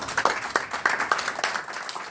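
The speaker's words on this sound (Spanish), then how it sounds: "Un gran aplauso al maestro Ríos porque se lo merece." An audience applauds the cartoonist Ríos at a lecture on Mexican comics, with a modest patter of hand claps of uneven rhythm, fairly close, from a smallish crowd with no voices on top.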